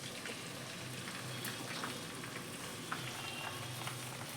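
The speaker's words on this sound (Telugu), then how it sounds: "బాగా వేపుకోవాలండి." Onions and green chillies fry in a pan for chicken biryani, giving a steady, close crackling sizzle with faint scattered pops throughout.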